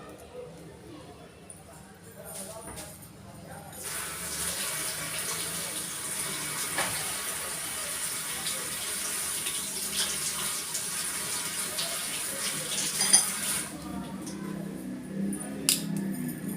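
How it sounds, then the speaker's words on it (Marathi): Tap water runs steadily over crabs being washed at a kitchen sink for a crab curry, a continuous splashing rush that starts after a few seconds and stops near the end. "बघा मी नळाखालून धुवून दाखवते तुम्हाला"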